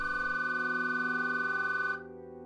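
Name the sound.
telephone ringing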